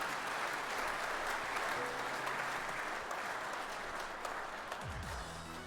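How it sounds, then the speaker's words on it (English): A crowd applauds steadily, a dense wash of clapping that carries on for several seconds, with a brief voice near the end. "Let's give him a round of applause."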